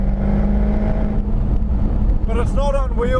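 A 2013 Jaguar F-Type's engine rumbles steadily from inside the moving car, a continuous loud drone that holds throughout, with a voice talking over it toward the end.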